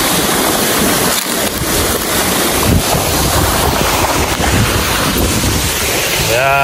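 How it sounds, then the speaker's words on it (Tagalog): A waterfall along a mountain trail at Mt. Samat, heard up close as a loud, continuous broadband rush with wind buffeting the microphone. "Yan ang falls."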